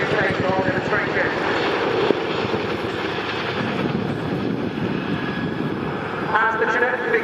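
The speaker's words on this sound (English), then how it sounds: "As the Chinook begins its second pass on the dog bone" A Boeing CH-47 Chinook tandem-rotor helicopter flies a demonstration pass at the RIAT 2024 air show, making a loud, continuous roar of engines and rotors that swells slightly toward the end.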